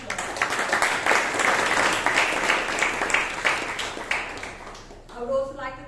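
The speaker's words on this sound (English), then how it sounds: "Let us all give him a huge round of applause." An audience at a Bangalore Toastmasters meeting applauds the Toastmaster with loud, dense, sustained clapping for about five seconds, then a voice speaks as it ends.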